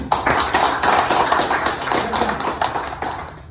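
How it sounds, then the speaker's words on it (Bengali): An audience at a motivational training session claps together, a dense run of sharp, rapid hand claps in a steady patter that fades slightly toward the end. "হাততালি"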